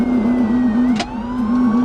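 Police car siren wailing in a steady, rhythmic up-and-down cycle during a high-speed chase, loud and continuous, with a brief burst of noise midway.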